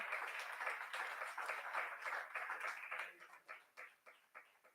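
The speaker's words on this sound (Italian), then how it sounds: "grazie Marco Bentivogli e Giuseppe Milan, farei un applauso conclusivo." Closing applause from an audience at an economics talk, soft and distant, starting as a steady patter and thinning into scattered individual claps.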